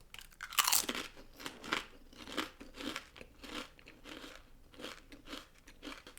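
Thin crinkle-cut English crisps crunch sharply and close up, one loud bite followed by a steady run of crackly chewing crunches, with no talking.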